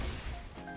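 A short, heavy smashing impact marks a game character's axe basic attack, a single crashing hit with a brief swoosh tail.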